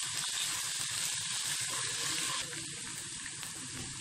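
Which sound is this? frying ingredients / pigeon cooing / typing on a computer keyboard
frying ingredients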